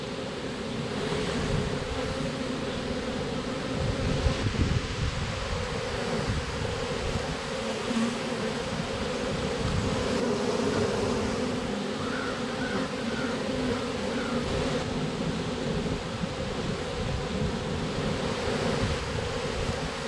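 A cast swarm of honeybees clustered on a tree makes a dense, continuous buzzing drone, close and steady throughout, with no talking.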